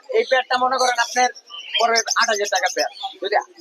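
Pineapple conures and other pet birds at a bird market in Mirpur 1 chirp and squawk close by in quick, loud bursts, with brief pauses between them.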